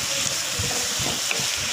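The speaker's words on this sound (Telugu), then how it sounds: "చూడండి, అట్లా కొంచెం ఫ్రై కానివ్వాలి." Potatoes and beans fry with spices in a pan for veg pulao, giving a loud, steady sizzle with faint stirring underneath and no talking.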